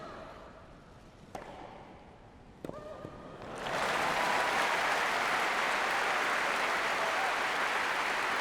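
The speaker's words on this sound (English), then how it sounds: "That's the loudest applause of the match." A few sharp racket strikes on a Wimbledon grass court, then the tennis crowd erupts into loud sustained applause and cheering that stays roaring to the end.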